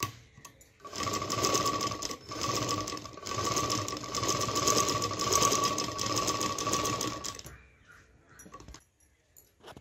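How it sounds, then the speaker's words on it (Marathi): A sewing machine stitches a blouse neck with a double seam in steady, whirring runs, pausing briefly and restarting several times, then stopping near the end as the room goes quiet. "दोन्ही साईडने शिलाई मारून झालेली आहे आणि डबल शिलाई मारली मी."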